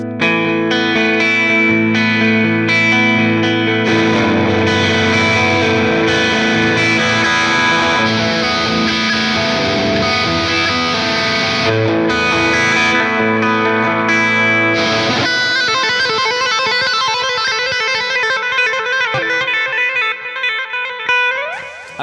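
An electric guitar with a clean tone routed through Gig Performer software plays a continuous, full chordal passage, loud and close throughout, thinning to lighter ringing notes in the final seconds.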